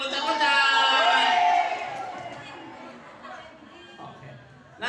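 Kindergarten children clap and shout "hore" together, a loud burst of young voices and cheering that fades into lighter chatter, with a fresh shout rising at the end.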